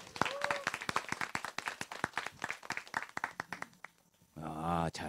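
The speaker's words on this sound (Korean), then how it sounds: "응원의 박수 쳐주시기 바랍니다." An audience at a branding workshop claps in encouragement. The claps are distinct and fairly quiet, rising to a fast, uneven patter before dying away, then a voice speaks at the end.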